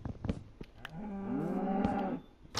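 Cows in the video game Minecraft moo in a long, loud drawn-out call, preceded and followed by short game clicks and thumps, with no talk.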